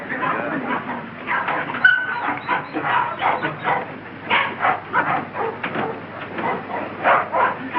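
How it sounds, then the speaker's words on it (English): Dogs bark and whimper in a 1933 mystery film set around a kennel, repeated yips and bow-wows running steadily through the whole stretch, mixed with muffled voices. "you don't want Raymond to bully his dog"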